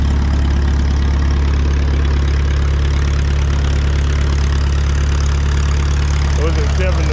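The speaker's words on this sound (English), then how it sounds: "There's a real tractor right there." A vintage tractor engine idles steadily at a fall farm show, a continuous low rumble with strong low-frequency hum throughout, fairly close, with faint background noise and a brief disturbance near the end.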